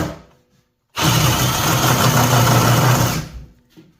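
A handheld power tool with a sharp carbide bit bites into pine tongue-and-groove boards, a loud, dense whirring grind that starts abruptly, runs for about two seconds and then cuts off.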